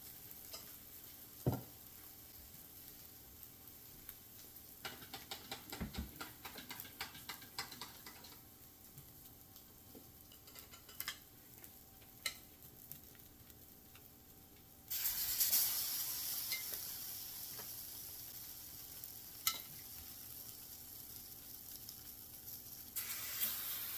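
French toast on a flat top griddle, seasoned with cinnamon, sizzles softly with scattered scraping taps of stirring, then a louder, brighter sizzle takes over partway through and holds steady to the end.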